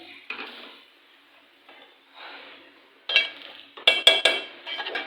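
Qeema mixed with masala spices and yogurt is stirred in a pan, starting with faint scraping and then growing louder with clanking utensil hits against the metal pan and a light sizzle, close up.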